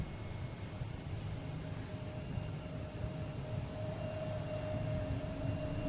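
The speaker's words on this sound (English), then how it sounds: "we have American coming in from Chicago in E175" An American Embraer E175 jet coming in from Chicago to land on runway 22 left at Boston Logan. A faint, distant engine roar holds steady and swells slightly toward the end.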